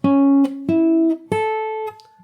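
Three plucked guitar notes from the Animal Crossing New Horizons theme, played fingerstyle one after another at a steady pace, each ringing bright and close before the next, with no talking.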